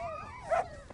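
Hungry dogs give short whimpering yelps and a brief bark, close and fairly quiet, the cries bending up and down in pitch in one quick burst.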